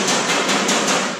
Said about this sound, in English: you're going to take a hammer and dolly